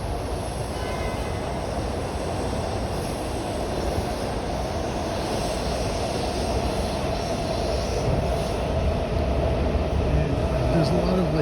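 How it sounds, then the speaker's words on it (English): A train passing overhead in Washington DC: a steady, broad, loud rumble and rush that continues throughout and swells slightly near the end, with a person talking over it. "there's a lot of like noise from that train up there"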